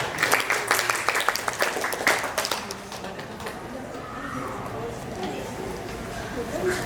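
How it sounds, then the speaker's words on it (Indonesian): Audience applause at a school quiz competition semifinal bursts in dense clapping for the first few seconds, then fades into murmuring room noise while a host talks. "Oke, tepuk tangan untuk semua tim."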